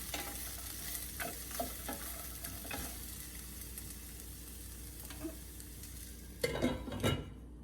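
Onions fry in a pan for pearl millet pulao, a soft continuous sizzle with intermittent spoon scrapes and clinks against the pan, ending in a louder cluster of stirring knocks.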